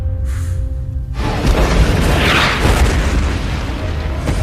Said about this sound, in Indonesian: menyalakan bom dan meledakkan sebagian zombie